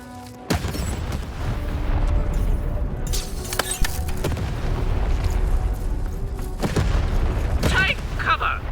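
Cannon fire in the video game Lost in Random, several booming blasts scattered across a loud, busy battle mix, with sharp bursts standing out above the continuous game noise.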